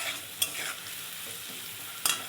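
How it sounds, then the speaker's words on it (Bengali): Food fries in a pan until reddish, a soft continuous sizzle with two sharp scraping stirs of a utensil, close up and fairly quiet, no voices. "লাল লাল করে ভালোই ভাজা হয়ে গেছে"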